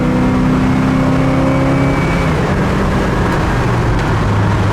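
A 1969 Oldsmobile Cutlass convertible accelerates hard as the transmission kicks down. The engine roar is loud and close, with a steady drone that shifts in pitch as it downshifts and pulls, and no talking.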